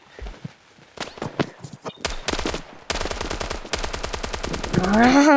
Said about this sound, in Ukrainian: О, о, пострілочка.